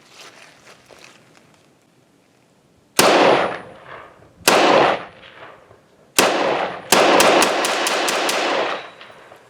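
A Norinco T97 Gen III rifle fires a ten-round magazine in loud, sharp reports, first spaced single shots with echoing tails, then a quicker string of closely spaced shots toward the end.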